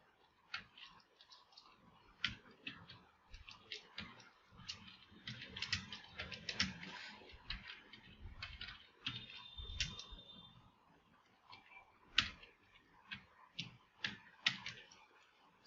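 Keys clatter in irregular bursts of sharp, close clicks on a computer keyboard while someone types Bangla text in Photoshop, with a faint background hum and no talking.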